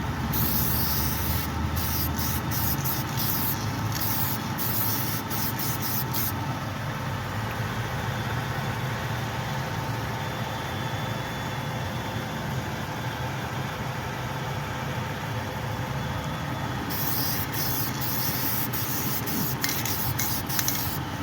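Spray paint applied to a curb-rashed 2023 Dodge Durango wheel rim during repair: a steady, close aerosol hiss runs through the whole stretch, with short sputtering bursts near the start and end.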